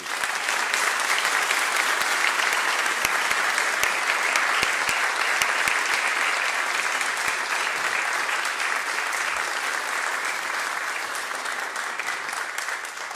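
An audience claps steadily and loudly for Secretary Alejandro Mayorkas at a university speaker event, a dense sustained applause that fades slightly toward the end.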